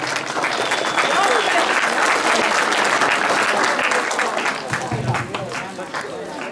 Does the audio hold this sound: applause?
yes